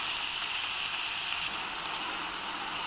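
Onions frying in oil with salt added, giving a steady, close, even sizzle that holds throughout with no talking.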